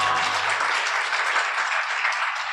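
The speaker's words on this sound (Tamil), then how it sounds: "ஒரு கைத்தட்டு கொடுங்க பார்க்கலாம் ஆண்டவர்." Church congregation applauding together, a steady dense wash of clapping hands that holds evenly throughout without pauses.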